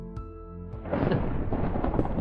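Minecraft thunderstorm: a tonal game sound fades out as a loud rumble of thunder with heavy rain rolls in and continues dense and close, no speech.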